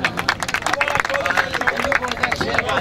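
A crowd at a kabaddi tournament final claps in quick, irregular bursts, fairly loud and close, mixed with crowd chatter and a voice talking over the applause.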